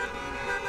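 Car horns honking continuously at a Freedom Convoy road protest, a loud, steady blare with traffic rumble beneath, no talk.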